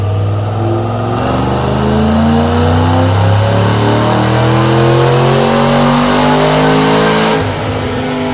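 A Roush 427R Mustang with Brenspeed upgrades and Detroit Rocker camshafts roars through a dyno pull, its V8 revving loudly and climbing steadily in pitch for about six seconds before dropping back off.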